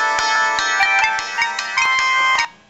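A Samsung TouchWiz phone plays its test music through its built-in speaker: a bright, loud melodic ringtone-like tune of crisp, evenly paced notes, heard alone before cutting off.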